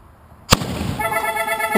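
A homemade mortar built from an asparagus can fires outdoors with one sharp, loud boom that rings into a crackling aftermath and ends in a second pop.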